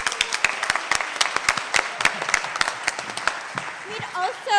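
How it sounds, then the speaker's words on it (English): An audience at a musical theater afternoon applauds the show's musical director, with sharp individual claps popping out of a lively ripple of clapping before a voice begins speaking as it fades. "please give another round of applause to our musical director, Ben Childress"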